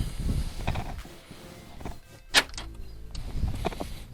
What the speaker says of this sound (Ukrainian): Отакий ключ з центральним замком. І він працює.